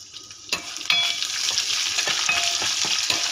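Thinly sliced onions hit a hot pan, a brief clatter followed by a sudden surge into a loud, steady sizzle with small spatters and crackles, and no voices.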